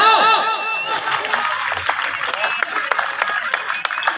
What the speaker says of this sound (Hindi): एकरे ताली जोरदार आवाज है